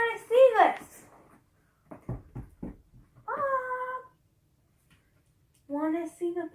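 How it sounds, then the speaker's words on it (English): A pet cat named Bob, an adult, gives a few drawn-out meows close by, separated by quiet gaps and some soft tapping or handling sounds. "This is my cat, Bob."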